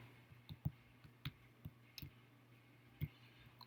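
Calculator keys being tapped, close but faint, with about eight light clicks at an uneven pace over a quiet background.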